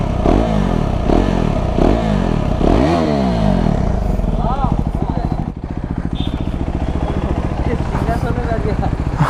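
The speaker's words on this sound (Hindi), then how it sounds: "थोड़ी आवाज़ आ रही होगी अब माइक के अंदर इसकी एग्जॉस्ट की।" A KTM 390 Adventure motorcycle with its exhaust dB killer removed, its single-cylinder engine blipped through several rising revs, then settling into a rapid, steady thrum; loud and close.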